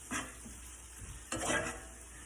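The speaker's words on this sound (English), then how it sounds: "now stir your walnut meat in with your onions" Walnut meat being stirred into sautéed onions in a pan, two distinct scraping strokes of a utensil against the pan over a faint low sizzle, close and quiet.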